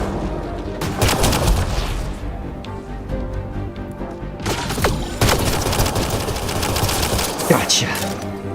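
Rapid bursts of video game gunfire, including pistol shots, crackle in loud volleys with brief pauses between, while players talk over the shooting.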